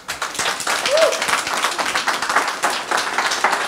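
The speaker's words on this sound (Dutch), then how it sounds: "Mag ik een applaus voor Cheryl?" Audience at a talk on Afro-Surinamese upbringing applauding a speaker being welcomed, a fairly close patter of clapping from a modest crowd with voices mixed in, continuing steadily for a few seconds.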